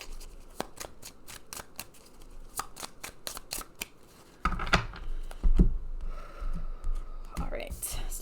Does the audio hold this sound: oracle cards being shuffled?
yes